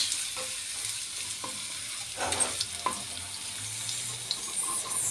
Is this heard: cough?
no